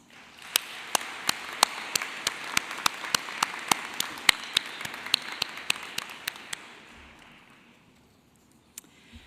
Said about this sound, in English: Graduates, please take a moment to show your appreciation to them with a round of applause.